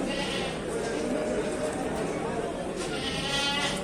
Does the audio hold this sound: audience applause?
no